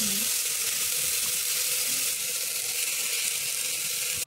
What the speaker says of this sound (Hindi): सब्जियों को मैं 1 मिनट भूनूंगी दाल और दलिया के साथ।